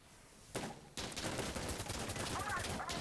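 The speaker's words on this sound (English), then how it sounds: "I shot many bullets to the right of that man." Rapid automatic gunfire from the video game Insurgency Sandstorm, a sustained loud burst of shots following a single shot, close and dense.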